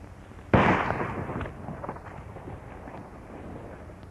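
A single loud gunshot cracks out in a western film, followed by a rumbling echo and a faint clatter that fades away.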